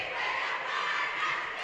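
The Riley Wildcats cheer squad chants loudly in unison at a girls' basketball game against Mishawaka, a sustained wall of crowd voices filling a gym.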